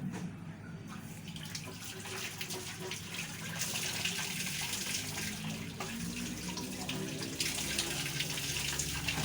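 Water running steadily as hand-washed laundry is rinsed in a household sink or basin, a continuous close splashing flow with louder surges partway through.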